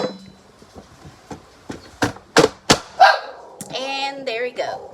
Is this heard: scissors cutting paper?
no